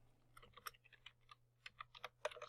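Fingers tap out a word on a computer keyboard in quick, irregular bursts of crisp clicks, close and fairly quiet over a faint low hum, with no talking.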